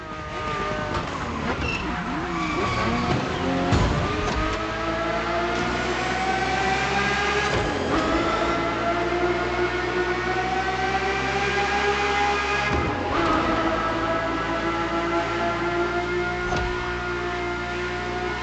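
A Ferrari F50's naturally aspirated, Formula One-derived V12 screams close and loud in a racing game, revving steadily upward with several gear shifts that briefly drop the pitch before it climbs again.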